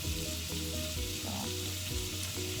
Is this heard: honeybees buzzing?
no